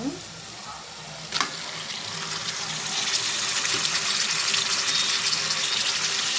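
Chicken pieces tipped into softened onions in a pan for a chicken gravy curry, setting off a steady broadband frying sizzle that builds and holds, with a short clatter early on and no talk.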